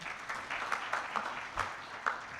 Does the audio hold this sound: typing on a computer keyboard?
no